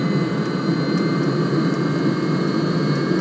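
A Webasto diesel heater runs flat out at maximum fuel and fan speed, giving a steady loud roaring whoosh of combustion and fan air with a faint regular ticking of the fuel pump, close by.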